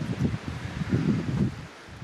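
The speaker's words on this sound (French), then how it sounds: "C'est avec le vent qui se lève comme ça, c'est plus chiant." Gusty wind buffeting the microphone at night in a forest, rising and falling in rumbling surges with a soft rustle of leaves and no voices.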